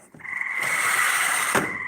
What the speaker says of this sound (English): It is a giant pool full of frogs.